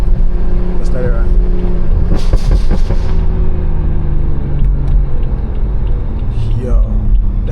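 A stage 2+ tuned BMW 340i engine rumbling loud and close through a downshift, with a brief rising rev blip partway through and a voice talking over the drone.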